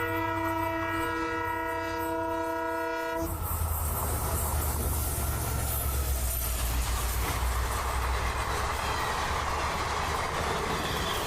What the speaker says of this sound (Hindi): ये है कोई तगड़ा लोकोमोटिव।